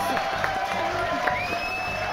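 A studio audience on a French TV show applauds a singer, a dense, steady burst of clapping and cheering with a whistle rising near the end, lasting about two seconds.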